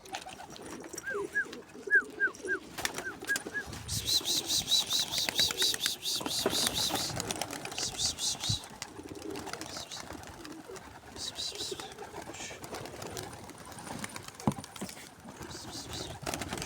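Pigeons coo and flutter in a backyard coop, with some birds reluctant to fly. Someone talks and calls to them over repeated close cooing, rustling and scattered thumps.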